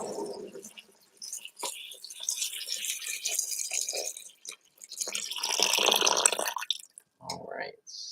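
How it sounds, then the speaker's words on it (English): Water pours in uneven bursts into a cooking pot for vegetable broth, splashing and gurgling close by with short pauses between pours. "So we're gonna add our water now."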